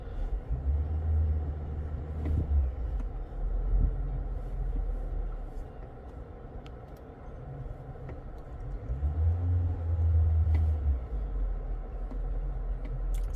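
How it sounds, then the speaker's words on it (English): The petrol engine of a 2022 Toyota Corolla Ascent Sport hybrid kicks in with a low rumble inside the car, swelling in two brief gentle revs over a steady cabin drone. "So the engine's just kicked in. If we get that little bit of a rev,"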